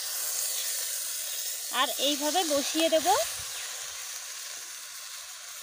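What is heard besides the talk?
garlic sizzling while frying in a covered kadai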